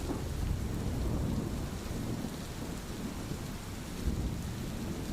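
Heavy rain falls during a thunderstorm, a dense continuous hiss with low rumbling thunder rolling underneath throughout, no voices.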